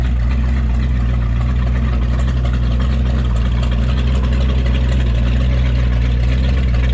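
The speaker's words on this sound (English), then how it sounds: "Oh, that Barracuda sounds good." A Plymouth Barracuda with its original six-cylinder engine idles steadily at a Cars & Coffee show, a loud, continuous low rumble holding even throughout with no talk over it.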